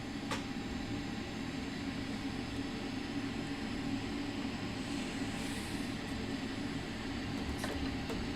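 A steady, faint drone of an aircraft engine running idle in Microsoft Flight Simulator, an even broadband hum with no change in pitch and no talk.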